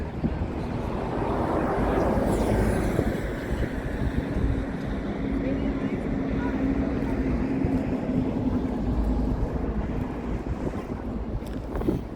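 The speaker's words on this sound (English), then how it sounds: "You'll have to pardon the road noise." Constant roar of traffic rushing past on a busy highway in Boulder City, Nevada, with wind buffeting the microphone and a passing vehicle swelling early on.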